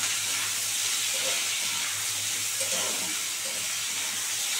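Potatoes and chilies frying in hot oil for a fish curry, giving a steady, even sizzling hiss that holds constant at close range with no talking.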